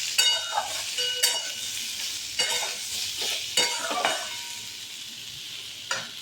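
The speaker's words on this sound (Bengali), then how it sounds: "হলুদ আর জিরে আর ধনে গুঁড়ো। এটা দিয়েও আবার নাড়তে থাকবে।" Turmeric, cumin and coriander powder stirred in a frying pan for an aloo paneer curry, a steady sizzle broken by several sharp scraping strokes of the spoon against the pan, close and alone.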